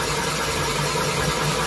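A boring machine arbor spins at speed during an overhaul of a 1929 Pontiac engine, a loud steady mechanical hum with constant vibration and no breaks.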